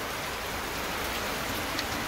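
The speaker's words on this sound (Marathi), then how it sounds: "आणि पाऊस कसा काय आला मग." Steady rain pours down during a monsoon-season gathering, a dense, even hiss of drops hitting surfaces, continuous and fairly close, with no voices over it.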